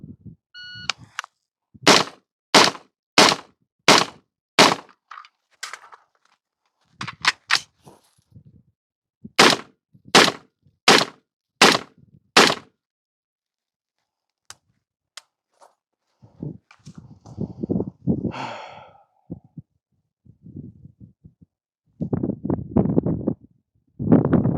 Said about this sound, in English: we will fire 5 rounds standing, reload 5 rounds kneeling.